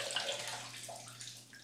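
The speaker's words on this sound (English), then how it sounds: "Drained a little bit of the water off of the brush" Water splashes and drains from a shaving brush that has been soaking, a continuous close wet trickle over a low steady hum.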